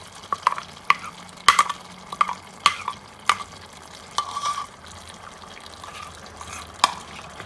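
Chicken korma with its ground spice paste being stir-fried in a pot, with a faint steady sizzle under repeated sharp clinks and scrapes of a spoon against the metal, at an uneven rhythm.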